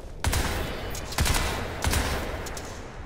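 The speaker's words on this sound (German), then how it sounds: "Selbst mit muskulärer Rückstoßdämpfung ist der Schnellfeuermodus unpräzise." Rapid-fire weapon mode in the video game Crysis 3, heard as three separate loud, sharp bursts of automatic fire spaced about a second apart, each quickly trailing off.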